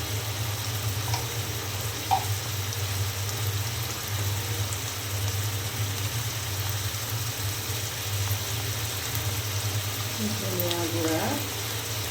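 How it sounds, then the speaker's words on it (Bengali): Ginger, garlic and cumin paste sizzles steadily in a pan for a cauliflower and egg curry, a constant close frying hiss with a low hum underneath and a brief clink near the end. "এখন আমি দিয়ে দেব আদা রসুন আর জিরা বাটা"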